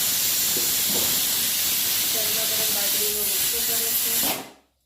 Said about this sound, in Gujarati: ચલો આપણી ઢોકળી બફાઈ ગઈ છે, વરાળ બી નીકળી ગઈ છે.